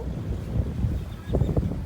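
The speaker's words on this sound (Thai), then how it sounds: "ลมมาแล้ว" Wind gusts buffet a microphone on a mountain road near a hilltop temple, a low rumbling rush that swells and fades in two faint surges, no voices.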